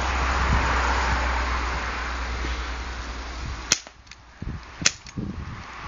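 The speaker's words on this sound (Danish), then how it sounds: "Skal prøve at skyde dig i maven." Two sharp, close airsoft gun shots crack out one after another, then a pair of fainter snaps, all over a steady low hum indoors at a LAN party.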